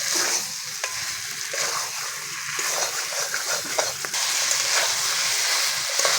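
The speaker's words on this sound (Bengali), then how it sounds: "মশলার সঙ্গে ভালো করে মাংসটা কষিয়ে নেব।" Mutton frying with ground spice paste sizzles and bubbles in the pot while a spoon scrapes and stirs repeatedly, the hiss growing louder in the second half.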